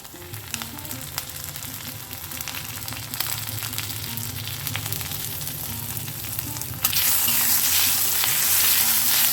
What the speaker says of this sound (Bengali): আদার কাঁচা গন্ধটা না যাওয়া পর্যন্ত আমরা এটাকে একটু ভেজে নেব খুবই অল্প তেলে